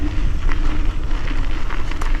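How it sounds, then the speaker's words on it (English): Strong wind blowing at an outdoor bike park, a loud continuous roar buffeting the microphone with rumbling low gusts throughout and no break. "It's definitely quite windy"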